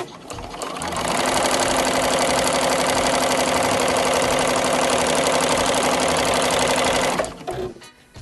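A sewing machine set to a 1.6 stitch length sews small fabric scraps together. The motor runs in one loud, rapid, continuous burst for about six seconds, then stops abruptly.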